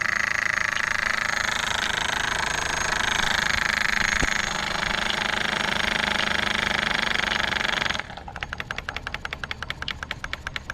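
A Stuart ST steam engine runs on a vertical boiler with a broad, steady steam hiss that gives way to rapid, regular mechanical beats near the end.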